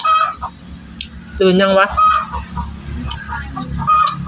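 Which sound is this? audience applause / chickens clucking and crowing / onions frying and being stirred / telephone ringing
chickens clucking and crowing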